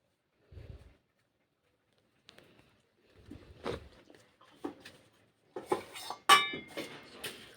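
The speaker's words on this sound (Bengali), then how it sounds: "আবার গ্যাসের মধ্যে কড়াই বসিয়ে দিলাম।" A wok is set down on a gas stove while making a thin prawn curry with bottle gourd greens, giving a few soft metallic clinks and knocks, followed by louder clattering pot sounds near the end.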